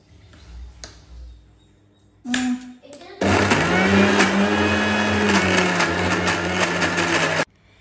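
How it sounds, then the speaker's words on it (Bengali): A blender churns thick milk cream for making ghee, running loud and steady for several seconds after a short start-stop burst, with quieter handling and clatter beforehand. "আর এখন আমি এই সরটিকে হাফ মিনিটের মতো বাটবো, ওর বেশি বাটবো না।"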